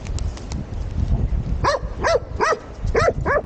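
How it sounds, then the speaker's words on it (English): An excited hunting dog worries a freshly shot deer, letting out a run of about five high, rising-and-falling whining yelps in quick succession over rustling, close and fairly loud. "I must get the dog off of it"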